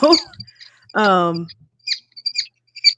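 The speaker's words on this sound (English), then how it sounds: "I keep hearing them. I love the birds." Short, high bird chirps repeat in a few quick bursts in a park after a brief stretch of speech, with quiet gaps between them.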